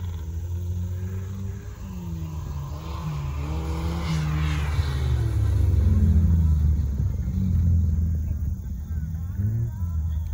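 A Lada Niva off-road car drives on a trial-type trophy sprint course, its engine rumbling loud and close, revving up and swelling toward the middle before easing slightly, with faint voices nearby.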